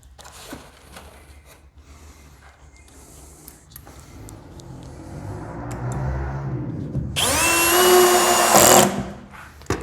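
A power drill drives a screw into a telescopic drawer slide during cabinet installation, a loud whirring burst near the end after quieter handling noises.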